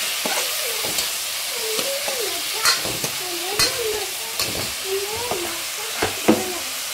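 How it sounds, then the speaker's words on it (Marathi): Green chillies sauté in a pan with onion and tomato, giving a loud, steady sizzle broken by repeated scraping stirs and utensil knocks; a voice murmurs faintly underneath. "त्याच्यानंतर हिरवी मिरची। त्याला तर मग छान परतून घ्यायचं आहे।"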